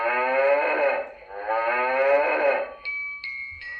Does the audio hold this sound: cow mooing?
yes